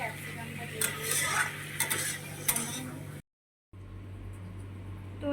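Chili chicken with capsicum cooking in a pan, with a steady sizzle under repeated scraping and stirring strokes; the sound cuts out briefly midway, then the frying resumes.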